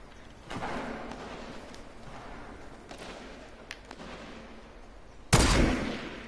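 A few sharp video game gunshots crack out, scattered and fairly distant, ending with one louder, closer blast.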